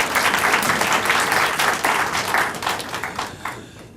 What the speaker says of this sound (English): let's give her a round of applause if we may